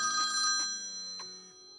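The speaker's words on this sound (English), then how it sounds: "I get a phone call." A telephone rings in two clear bursts with a short gap, a bright electronic ring standing alone without talk, followed by a faint trailing tone.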